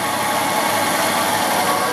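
A 1964 Ford Thunderbird's big-block V8 idles with a steady, even rumble, continuous with no variation, close and moderately loud, with no voices.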